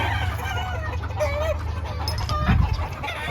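White Kelso gamefowl roosters cluck and call on a gamefowl farm in Sto. Tomas, Batangas, with a steady low background hum and one louder nearby burst of clucking near the end.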